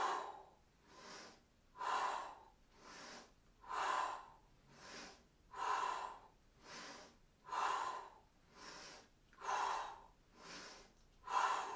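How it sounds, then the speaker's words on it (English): Deep breathing during an arm swing twist exercise: about ten loud, even inhales and exhales in a steady rhythm, close and alone with no talk. "we're gonna inhale and exhale on the switch"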